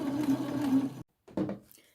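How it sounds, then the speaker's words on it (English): A domestic sewing machine runs a line of reinforced stitching at a 5/8 seam allowance on thrifted jacket fabric, humming steadily for about a second, stopping, then giving a short second burst, close up and without speech. "I'm doing this reinforced stitching at 5/8 because that's what the seam allowance is"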